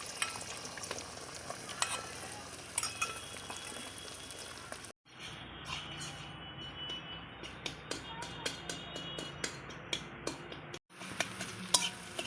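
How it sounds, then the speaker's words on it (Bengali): Eggs frying in hot oil in a pan, cooked for shop-style chow mein, give a steady crackling sizzle with stirring and scraping that breaks off briefly twice before resuming, close and fairly quiet. "তেল গরম হয়ে গেছে, তো আমি ডিমটা ছেড়ে দেবো। একবারে সব ডিম ভেজে নেব।"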